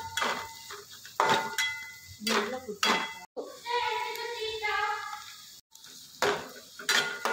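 Onions stirred in a cooking pan for brinjal and tomato curry, heard as close metal scraping and clattering in bursts over a steady background sizzle.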